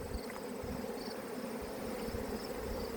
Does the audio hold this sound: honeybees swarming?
yes